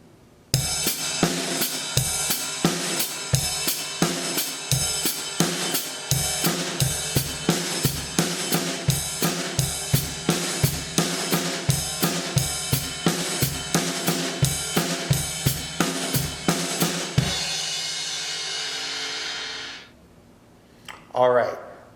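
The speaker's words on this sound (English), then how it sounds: "add that paradiddle pattern underneath the ride, and it will sound like this" A drum kit plays eighth-note paradiddles under a steady ride cymbal pattern: evenly spaced, crisp hits over a sustained cymbal wash that continues for about seventeen seconds, then the ringing decays away, with a brief sound near the end.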